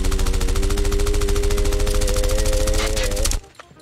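Full-auto M16 rifle fire in Call of Duty Mobile: a long, loud, rapid and steady burst of shots with a humming undertone, stopping abruptly near the end, followed by a few faint clicks.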